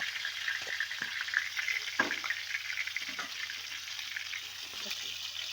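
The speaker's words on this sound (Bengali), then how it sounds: "তেলেতেই আলু দিয়ে দেবো" Potatoes frying in hot oil for a home chicken curry give a steady, moderate sizzle throughout, with a few brief clinks and stirring knocks and faint background talk.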